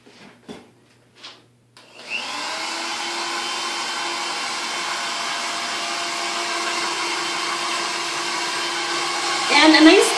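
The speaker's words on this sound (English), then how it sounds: "So now we're just going to go ahead and start blow drying it." A hair dryer switches on after a few soft handling noises and blows steadily and loudly while drying hair, its whooshing roar holding constant with a slight rise near the end.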